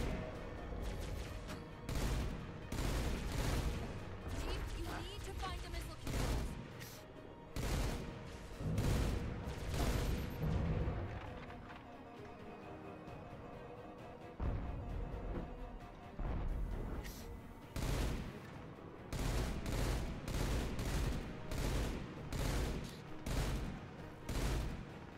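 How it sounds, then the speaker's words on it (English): Battle rifle fire in Halo 4 comes in repeated loud bursts of rapid shots separated by short pauses, with a longer quiet stretch partway through before the volleys resume. "Oh, the classic battle rifle."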